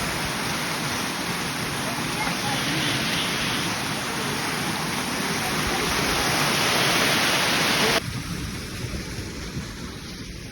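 Heavy rain pours steadily on the climb to Sri Pada, a dense, loud hiss that swells for about eight seconds before dropping to a softer, closer patter.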